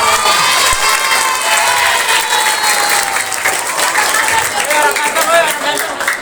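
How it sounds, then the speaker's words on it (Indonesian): Audience at a motivational talk breaking into loud applause and cheering, with dense clapping and excited shouts and whoops from a large, close crowd. "Tepuk tangan dulu dong."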